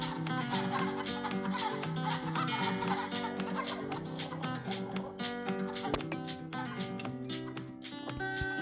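Cartoon chickens cluck repeatedly over a bright looping game tune in the Egg, Inc mobile game, short rhythmic clucks layered with music throughout, no talking.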